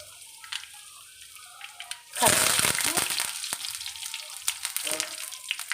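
Mustard seeds and dry red chillies hit hot tempering oil for a tomato chutney, bursting into a loud sudden sizzle partway through, with crackling pops continuing over quieter kitchen background.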